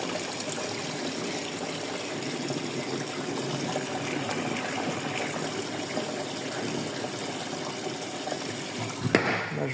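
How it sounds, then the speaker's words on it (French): Water pours into a bottle to rinse it in a laundry setting, a steady, continuous gushing and splashing that stays even throughout and ends with a brief knock. "Là, je vais mettre l'eau pour rincer la bouteille."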